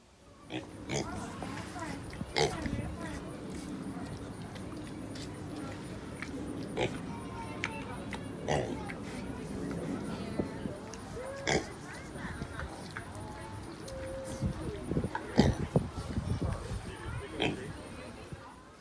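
Pigs grunting and oinking repeatedly at close range, with people chattering in the background throughout.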